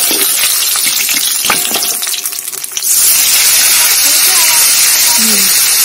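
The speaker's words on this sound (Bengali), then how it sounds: "মাছটাও ভাজা হচ্ছে, এখন ভাজা হচ্ছে" Tengra fish frying in hot oil, a loud steady roaring sizzle close by that briefly dips and then surges again, with a voice talking over it.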